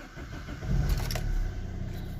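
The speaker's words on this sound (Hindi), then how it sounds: "गाड़ी को करते हैं स्टार्ट।" A Maruti Swift diesel car engine cranks and fires up nearby, rising into a steady idle rumble after a brief start, with no talking.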